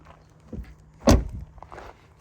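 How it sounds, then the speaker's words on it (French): The ski hatch of a Mercedes A 45 AMG Edition One is opened inside the cabin, a soft click followed by a louder plastic thunk, then light rustling, with no talk. "La trappe à ski."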